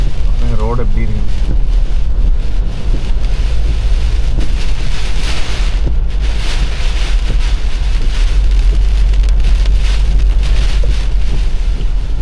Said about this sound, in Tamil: இங்கேயுமே நல்ல மழைங்க, பயங்கர காற்று.